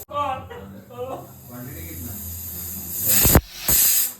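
A faulty pressure cooker cooking mutton lets out two loud, sharp hissing bursts of steam near the end, after people talk over a quieter background.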